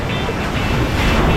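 Rough ocean waves breaking at a beach in Vero Beach, a loud, broad rushing wash with wind buffeting the microphone, steady and heavy throughout.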